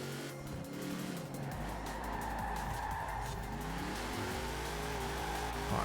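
Racing car in Forza Horizon 4 on Fortune Island, its engine revving and droning steadily with tires squealing as it drifts and brakes, loud and continuous throughout with no talk.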